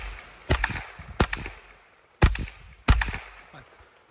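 Four sharp gunshots from a Beretta Fishtol fired during a 25 and 100 yard accuracy test crack outdoors in uneven spacing, each loud report trailing off in a brief echo.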